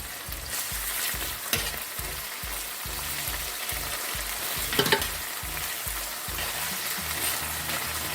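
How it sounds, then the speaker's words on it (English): Green seasoning marinade sautéing in hot oil in a pan, a loud, steady close sizzle with a periodic stirring scrape throughout and no speech. "you're going to saute this for a while before you add your pork"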